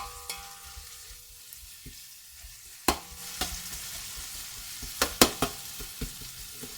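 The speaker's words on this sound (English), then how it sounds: "So just stirring gently, so you move about your onions so it cooks nice and evenly." Onions frying in a pan for a chicken curry hiss softly while a spoon scrapes and knocks against the pan in irregular sharp clicks, close up with no voices.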